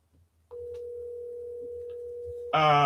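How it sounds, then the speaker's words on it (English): An outgoing phone call's steady single-tone line signal holds for about two seconds after a click, then a brighter, richer tone cuts in at the end. "Let me try to see if I can get her on the phone."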